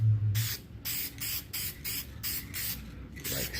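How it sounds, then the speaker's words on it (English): A finish coat is sprayed from a can onto a mesquite winged bowl in an open-air woodturning shop: about seven short, hissing bursts in a steady rhythm, close and fairly loud, with no talking. "that spray didn't act right, so I'm gonna try this spray here"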